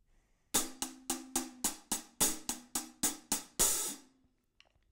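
A paradiddle-diddle rudiment is played on a drum, a quick run of about a dozen sharp, evenly spaced strokes with a ringing tone, ending on a final accented hit that decays into near silence.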